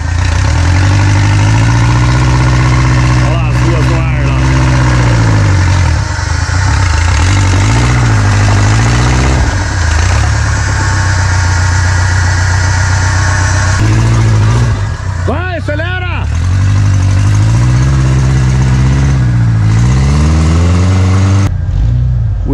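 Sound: Jeep Willys engine running and revving off-road

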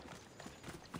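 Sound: horse hooves clip-clop in the video game Assassin's Creed Odyssey

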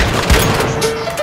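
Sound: wall blown up with explosive in Once Human video game

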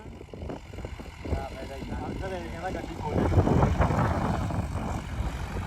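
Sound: Swraj 855 4x4 tractor engine running

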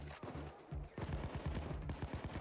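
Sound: gunfire from a minigun in the video game Payday 2

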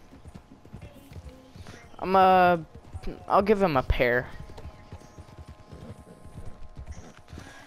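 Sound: horse hooves in video game Red Dead Redemption

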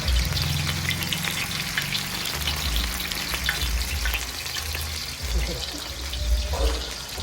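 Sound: masala fish sizzling on a tawa griddle

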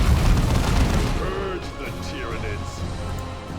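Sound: grenade explosion in Warhammer 40K Dawn of War 2 video game

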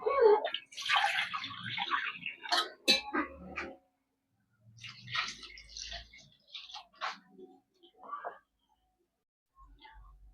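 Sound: pouring water into soaked kudampuli for fish curry

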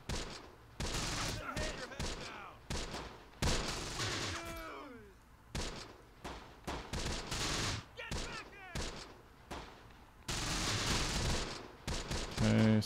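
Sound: gunfire in Close Combat: The Bloody First video game

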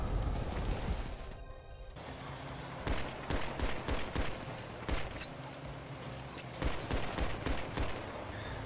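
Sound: gunfire from GTA Online video game

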